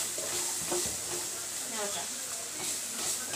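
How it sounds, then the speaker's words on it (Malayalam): Food frying in a pan is stirred on a home stove in Kerala, a soft continuous sizzle with scattered scraping stirs, fairly faint, with voices talking over it. "പച്ചമണം മാറാൻ വേണ്ടിട്ട് 2 മിനിറ്റ് ഒന്ന് നമ്മൾ ഇളക്കി കൊടുക്കുന്നുണ്ട്."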